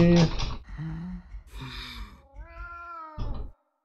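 A cat in the video game Moonscars meows several times in drawn-out, wavering cries, loud and close, separated by brief quiet gaps.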